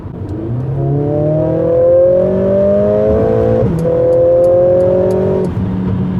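A 2020 Mercedes-AMG CLA 45 S 4MATIC+ engine revs hard on the road, loud and close, climbing in pitch through one gear, then dropping briefly at a shift before climbing again.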